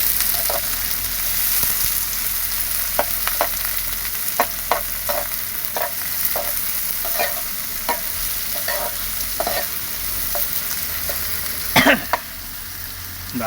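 Chopped onion fries in oil in a pan while a spatula stirs it, giving a constant crackling sizzle dotted with sharp, rhythmic scraping clicks and one brief throat-clearing near the end.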